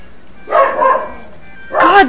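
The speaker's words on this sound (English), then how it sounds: "God, those dogs!" Dogs bark in two loud, close bursts, one early and one at the end, with a speaking voice also present.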